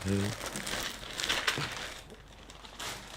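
A plastic bag crinkles and rustles in bursts up close, with a voice briefly heard at the start.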